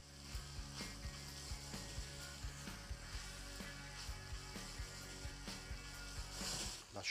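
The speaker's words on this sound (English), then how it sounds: "As soon as it browns, we can blend with white wine. I let it cook off" White wine cooks off in a pan with eggplant, producing a soft, constant sizzle punctuated by regular light clicks and taps, quiet and close with no talking.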